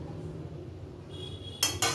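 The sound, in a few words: pan being placed on stove for tempering rasam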